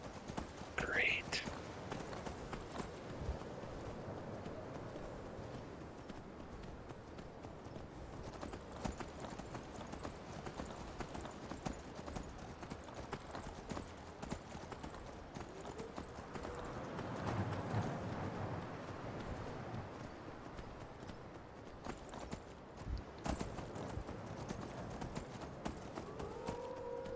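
Steady clip-clop of a slow horse's hooves in a video game plods along throughout, with faint whispery voices and a brief whinny early on, all fairly quiet.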